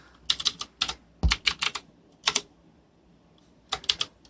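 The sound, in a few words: typing on a computer keyboard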